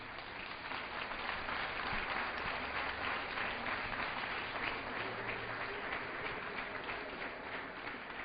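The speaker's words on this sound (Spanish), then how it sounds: "Den un aplauso fuerte al Señor" A congregation gives a loud, sustained round of applause at a religious gathering, dense clapping from a crowd that holds steady for several seconds.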